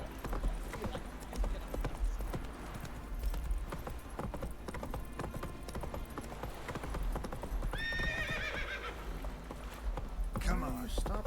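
Roach the horse in The Witcher 3 trots with steady clip-clopping hooves and neighs loudly near the end, with a voice talking over the hoofbeats.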